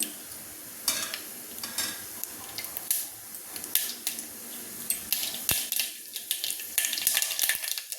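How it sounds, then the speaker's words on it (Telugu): Tempering seeds sputter and pop in hot oil for a spinach curry, a close sizzle broken by frequent sharp crackles and spits that grow busier toward the end, with no talking. "ఒక స్పూన్ తాలింపు గింజలు వేసానండి మంచిగా ఎగిపోతున్నాయి"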